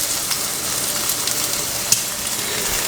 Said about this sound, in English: just frying up in some oil just to get them crunchy